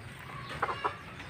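Two short clucks from a chicken, close and fairly clear, over a low background murmur.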